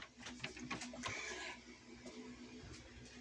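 A faulty inkjet-style printer that keeps jamming and eating its paper runs with faint mechanical whirring and rapid clicking feeds, quiet and close, with soft background murmur.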